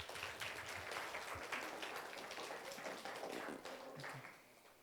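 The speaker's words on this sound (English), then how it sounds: "Please clap for your friends." A group of students at a mentoring session clapping together, a rough, uneven patter of hands that runs continuously, with faint murmuring beneath.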